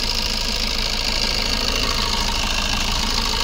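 The diesel engine of a 2013 Maruti Swift Dzire VDI idles in a steady, even rumble with a light knocking clatter, heard close and continuous with no break.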